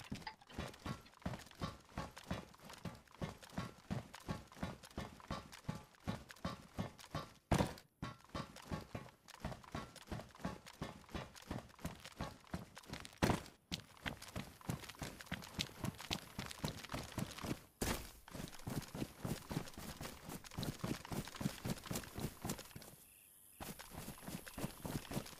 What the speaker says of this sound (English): Why are my footsteps so much louder?